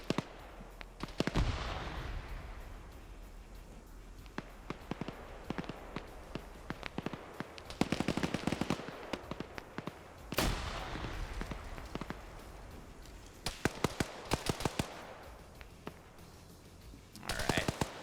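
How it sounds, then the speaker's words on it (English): Bursts of MP7 submachine gun fire in a PvP military video game set in a modern civil war, rapid crackling volleys and scattered single shots at varying distances, with quieter stretches and footsteps between them. "That sounded like a MP7."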